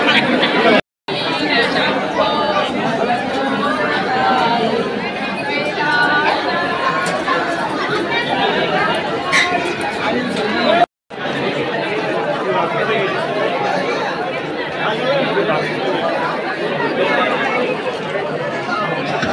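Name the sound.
large jostling crowd at Trimbakeshwar temple, Nashik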